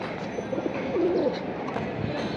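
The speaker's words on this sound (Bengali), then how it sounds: "এটা কি কবুতর আমিনুল ভাই?" Soft, low pigeon cooing rises and falls over a steady background hum, with a clear rolling coo near the middle.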